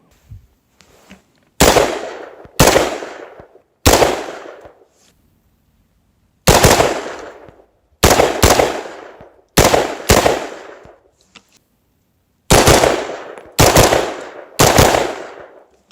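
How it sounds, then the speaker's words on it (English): Rifle shots fired at a shooting range during multi-target drills with a 1-8x28 LPVO-scoped rifle: eleven loud, sharp reports in quick pairs and triplets, each with a short echoing decay, no talk. "let's go ahead to the range and actually shoot it though. Let's do some multi-target."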